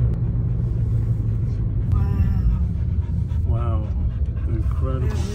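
A dog pants and breathes steadily inside a moving car on a mountain highway, close up over a constant low engine and road rumble, with a few brief whimpers and voices talking nearby.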